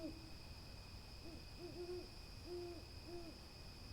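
An owl hoots in a short series of soft, evenly spaced calls, faint and distant against a quiet background hum.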